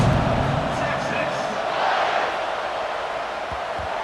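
Stadium crowd roaring in the College Football 26 video game, a dense sustained wash of cheering that stays loud and even, with a commentator's voice over it.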